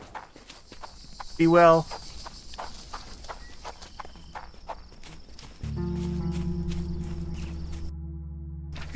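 Horse hooves clip-clopping in the Sherlock Holmes The Awakened video game, soft regular footfalls under brief speech, followed by a steady low ambient drone.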